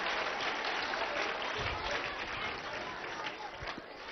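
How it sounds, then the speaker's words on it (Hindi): Audience applause at a gathering at Acharyakulam in Haridwar, a dense, sustained burst of many hands clapping that fills the whole stretch and tapers slightly at the end. "एक बार इनके लिए भी ताली हो जाए भाई"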